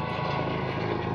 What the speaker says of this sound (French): Ah ouais, c'est un hélicoptère.